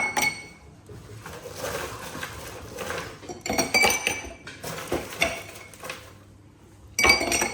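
Ice cubes clinking into glasses while cold coffee is made, with bright chinks and rattles of glass and utensils in bursts, close and fairly loud, no talking.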